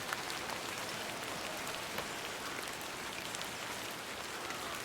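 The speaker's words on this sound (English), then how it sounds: "I'm glad the rain doesn't put you off." Steady rain falls in the video game Hob's Barrow, a continuous even hiss of drops with soft scattered patter throughout, alone without voices.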